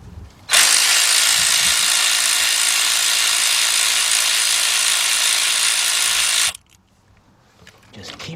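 A power ratchet spins bolts out of a 2004 Ford Expedition 4.6 engine, giving one loud, continuous whirring buzz for about six seconds that stops abruptly, followed by quiet shop background.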